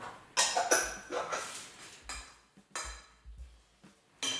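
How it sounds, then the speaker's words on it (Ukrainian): A utensil stirs a grated zucchini mixture with salt, garlic and khmeli-suneli spices in a bowl, making several separate scraping and clinking bursts with short pauses between them, close and fairly loud. "Перемішую."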